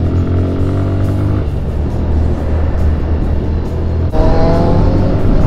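Kawasaki Z900 motorcycle, 2023 model, revving its engine close by, a loud sustained roar that rises and falls, with a sharp jump in intensity near the end.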